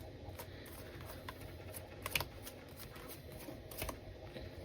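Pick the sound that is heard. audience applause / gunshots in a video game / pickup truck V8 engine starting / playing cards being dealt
playing cards being dealt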